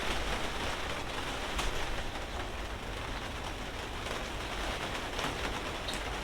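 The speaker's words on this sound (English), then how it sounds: "we can hear the rain again now" Rain falls steadily in a garden, a dense, even hiss of drops on surfaces that stays constant and fairly loud with no pauses.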